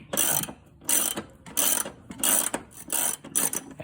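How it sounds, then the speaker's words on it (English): Ratchet wrench loosening the two top bolts on a Honda rear shock absorber, a series of six close, loud bursts of rapid clicking at a steady rhythm with brief pauses between strokes. "Remove the two top bolts."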